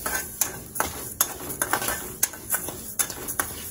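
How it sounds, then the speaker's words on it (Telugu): Spices and chana dal frying in a pan for homemade garam masala, with a steady soft sizzle broken by repeated sharp scrapes and clinks of a spoon stirring against the pan, close and without talk. "సో ఇది బ్రౌన్ కలర్ వచ్చేంత వరకు మనం వేయించుకోవాలి"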